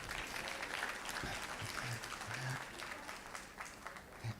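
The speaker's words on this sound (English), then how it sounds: "Please give them a round of applause" Graduation ceremony audience at Excelsior Community College applauding the class of 2022, dense clapping from a large crowd throughout, fairly even with slight fading toward the end and faint voices mixed in.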